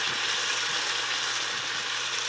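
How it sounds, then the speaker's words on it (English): Curry paste sizzles steadily in a pan of caramelized onions as it fries for Goan chicken vindaloo, a continuous close hiss with faint stirring underneath. "So to this, we're going to add the remaining curry paste."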